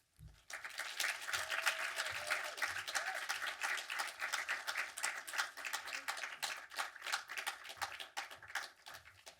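An audience applauds continuously at a film screening event as director Jamie Babbit is welcomed, a dense sustained round of clapping that starts abruptly and stays steady throughout with no voices.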